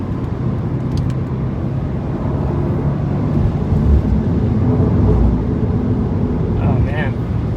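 A 2015 Subaru WRX engine pulls hard and loud at 3,500 to 4,000 rpm, its droning note steady for several seconds, while the car rolls over a rough road.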